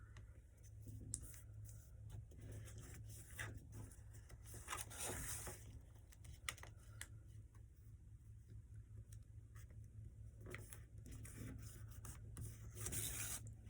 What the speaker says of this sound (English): Now you're gonna fold this flap so that it lands on this crease right here.